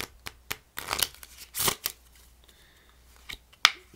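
A deck of playing cards is shuffled by hand during a card trick, giving crisp, close riffling bursts and snaps in short clusters with brief gaps between them.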